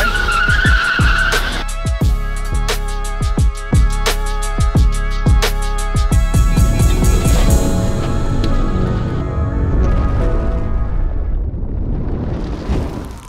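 Toyota Camry 3.5 pushed hard on a racing stretch, engine roaring loud and close with sharp repeated bursts and tire skids, settling into a steady rough drone toward the end.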